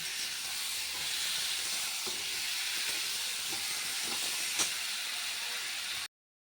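Potato and papaya sauté in oil with salt in a pan, giving a steady hissing sizzle with a few faint clicks, constant at moderate volume before it stops abruptly near the end.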